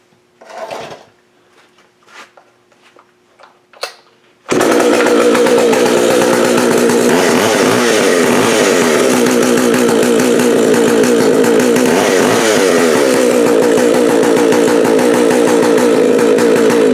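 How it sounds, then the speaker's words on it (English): A Jonsered 920 chainsaw runs loud and close after a few quiet clicks and pulls on the starter cord, then holds a steady, ragged roar with slight rises and falls in revs. "This is a Jonsered 920"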